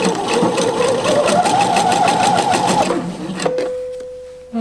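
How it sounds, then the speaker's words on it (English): Sewing machine stitching a seam on garment lining with a 5/8-inch seam allowance, running steadily and loudly for about three seconds, then stopping with a brief whir and click. "I'm just going to start sewing here using the 5/8 of an inch seam allowance."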